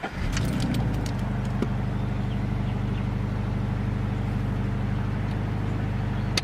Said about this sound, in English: this is the startup of my FRS.